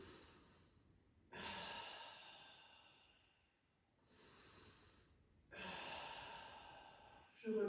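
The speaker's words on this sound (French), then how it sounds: "Continuez de respirer chez vous." Slow, deep breathing during a Foundation Training exercise: two long audible exhales, each after a quiet pause, then a sharper breath at the very end, close and soft, with no talk.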